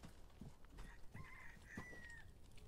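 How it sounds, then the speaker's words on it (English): A rooster in the game Resident Evil 4 Remake crows faintly in the distance, a drawn-out wavering call over a low, murky background. "Cock-a-doodle-doo."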